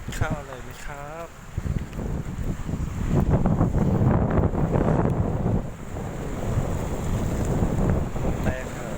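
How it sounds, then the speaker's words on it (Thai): Strong seaside wind at Laem Thaen, Bang Saen, roaring loudly and continuously into the microphone, with surf mixed in and someone speaking briefly at the start. "ลมแรงครับ"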